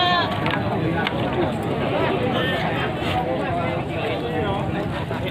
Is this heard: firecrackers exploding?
no